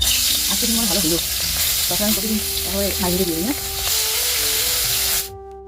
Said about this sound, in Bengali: কড়াইয়ে এই যে তেল দিয়ে দিলাম তেলটা ভালো করে গরম করে